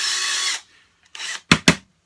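Power drill fitted with a cleaning tool scrubbing old glue out of Callaway Apex golf club heads: a steady whirring run that stops, followed by three short close bursts of the drill.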